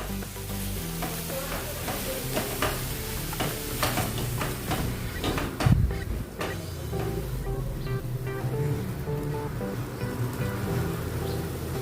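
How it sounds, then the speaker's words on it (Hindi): Soya chunks frying in a pan with ginger and garlic give a steady, loud sizzle with scattered crackles and the occasional scrape of stirring, continuous and close throughout with no speech. "थोड़ी देर इसको भूनेंगे सोयाबीन को।"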